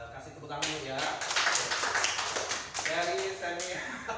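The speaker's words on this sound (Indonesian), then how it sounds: "Kasih tepuk tangan dulu ya." A room of people clapping hands together at a class or school activity, dense and steady for several seconds with voices talking over it.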